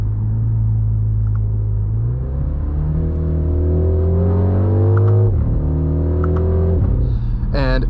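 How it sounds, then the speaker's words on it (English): A 2025 MINI Countryman John Cooper Works engine, artificially enhanced through the cabin speakers, drones steadily, then rises in pitch as it revs up through the gears, with a few faint synthetic pops and crackles near the end. "There's even some kind of fake pops going on around you."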